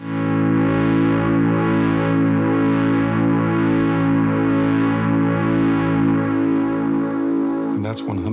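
Walrus D1 delay pedal running distortion with tape-delay emulation at a fully wet mix, producing a loud, dense, sustained saturated guitar wash with smeared repeats that swell and pulse steadily before a brief break near the end.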